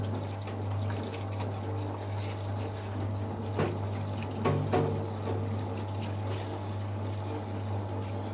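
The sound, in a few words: water splashing and trickling from a car front differential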